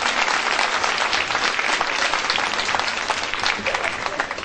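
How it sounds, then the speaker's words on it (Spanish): A crowd at a community brigade event in San Juan Bautista Lo de Soto claps for a birthday captain, brisk dense applause throughout the few seconds, with voices faintly mixed in. "A ver, un aplauso."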